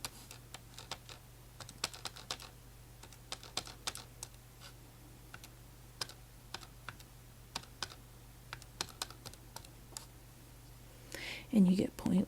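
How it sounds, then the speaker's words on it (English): Calculator buttons being pressed while numbers are entered, a quiet series of small irregular taps running throughout, with a brief burst of a soft voice near the end. "so let's type it in"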